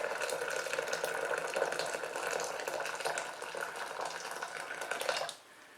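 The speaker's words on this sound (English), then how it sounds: "So we'll put about a litre, 4 cups of water in here." Steady pouring water splashes into a blender for several seconds, about a litre, then stops abruptly.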